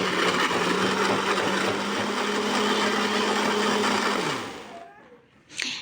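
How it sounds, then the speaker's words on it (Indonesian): An electric blender grinds spice paste for Indonesian urap sayur with a loud, steady whirring roar close by for about four seconds, then winds down and stops, followed by a brief clatter. "Dan aku blender sampai benar-benar halus ini untuk bumbunya."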